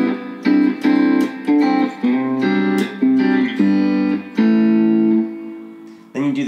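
Rhythmic chords on a guitar play the first chorus part of a song, choppy strummed stabs with short gaps between them, clear and close, with a slight effects tint and no voice.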